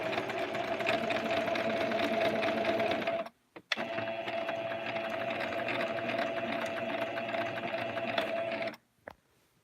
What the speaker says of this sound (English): I'm very happy with a regular sewing machine